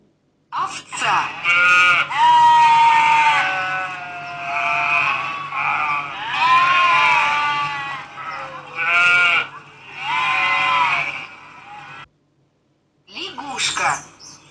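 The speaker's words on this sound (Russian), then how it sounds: "Овца." Sheep bleating loudly and close in several long, quavering calls with short gaps between them, one more bleat after a brief silence.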